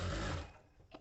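A sewing machine stitches a blouse seam in a short, close, whirring burst that stops abruptly, followed by a faint click.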